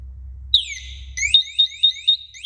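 A firefighter's Honeywell SCBA PASS device alarm, manually activated, sounds alone: a sustained high tone slides down and holds, then breaks into a series of sharp, rapid repeating chirps.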